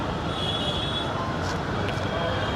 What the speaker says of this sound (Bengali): ওই যে মেট্রোটা বেরোচ্ছে ওটা কবি নজরুল থেকে বেরোচ্ছে